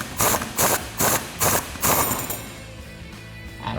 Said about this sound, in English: grab a 17mm socket and just slowly tighten down this bolt